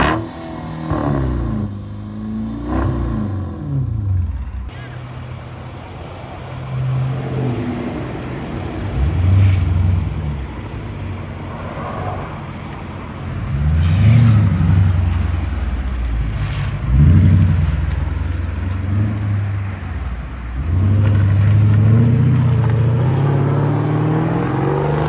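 A Mercedes S-Class V8 revs in several deep, loud bursts, then accelerates away, its low rumble swelling and fading outdoors with wind noise.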